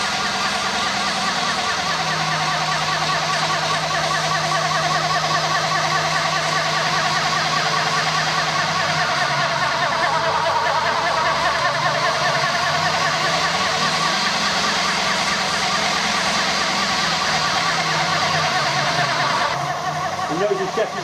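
A failing spindle bearing in an SNNC 300 P1 626 mill, heard as a steady, loud mechanical grinding whine with a rough rattling texture that runs continuously at close range throughout.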